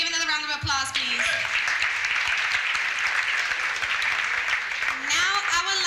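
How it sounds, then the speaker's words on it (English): Audience applause at the 12th annual Roberto & Vera Clemente life commemoration event: a steady, dense wash of clapping fills the middle of the moment, with a speaking voice before and after it. "Can we give another round of applause, please?"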